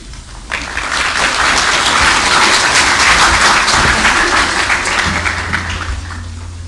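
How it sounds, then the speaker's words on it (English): Audience applause for guest speakers, a dense, sustained burst of clapping that rises quickly and holds steady before tapering slightly, with no talk over it. "My guests always get applause."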